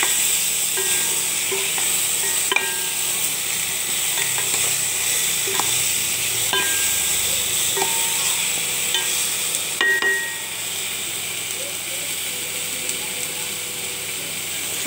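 Raw sweet mango pieces frying in hot oil with dried red chilli and panch phoron, a steady sizzle with occasional clinks and scrapes of a spatula, close and continuous without speech.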